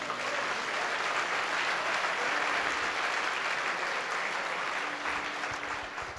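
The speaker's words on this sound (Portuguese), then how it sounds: "Dá um aplauso a Jesus." A Sunday church congregation applauds in one steady, sustained roar of clapping that holds evenly throughout at moderate loudness, with no speech over it.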